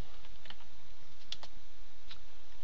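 A handful of sparse, soft key clicks on a computer keyboard, typed into the Windows Run box, each tap brief and spaced apart against a quiet background.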